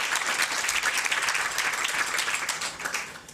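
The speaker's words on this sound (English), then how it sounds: "Give them a round of applause." A crowd at an awards reception claps steadily for the honorees, a dense wash of hands holding at an even, moderate level throughout.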